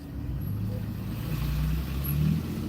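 A giant dump truck drives past with a steady, loud low engine rumble that swells slightly toward the end, heard up close from inside traffic.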